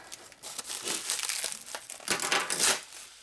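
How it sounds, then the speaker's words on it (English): Paper and tape crinkle and tear loudly and up close as packing is pulled off a 1958–62 Harley panhead rear cylinder head plate, a continuous crumpling rustle with short bursts and no talk. "Start pulling tape off, you'll find the end at some point."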